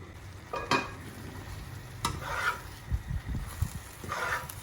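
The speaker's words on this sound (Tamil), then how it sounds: "நடுவில் கிண்டி விட்டுட்டே இருங்க, அப்போ தான் அடி பிடிக்காமல் இருக்கும்." Prawn masala fries in a pan and is stirred with a spatula, giving quiet sizzling with occasional scraping strokes and light metallic taps against the pan.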